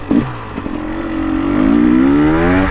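A KTM 300 two-stroke dirt bike engine runs close and loud, with a short blip at first and then a smooth, steady drone that rises gently and holds at an even pitch.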